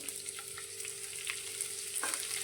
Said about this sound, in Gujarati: હવે આપણે જે પાપડીને સમારીને રાખી છે તે કડાઈની અંદર લઈ લઈશું